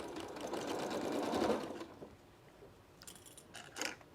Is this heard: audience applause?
no